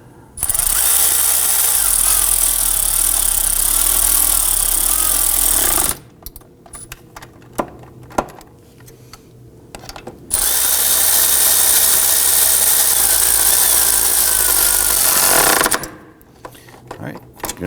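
A power tool snugs down steering knuckle bolts on a 2005-2009 Subaru Legacy, running in two long, loud, steady bursts of about six and five seconds, with quiet workshop clatter between and after them.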